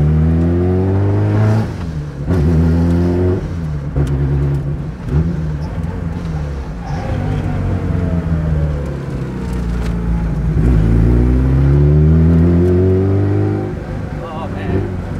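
A 750hp Lotus engine revs and idles in a sustained, loud rumble with rising and falling pitch as the throttle is blipped, close by, with people talking over it throughout.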